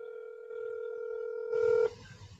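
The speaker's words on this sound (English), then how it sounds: "Let me see if he's gonna answer the phone." A telephone sounds a steady dialing tone that holds for nearly two seconds, then cuts into a brief burst of noisy clatter before going quiet.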